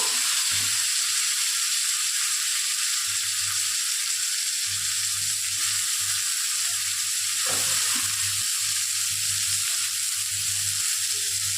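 Bitter gourd fries in hot oil with a little cumin for a light fish curry, giving a constant bright sizzle over an intermittent low bubbling hum, close and loud, with no voices.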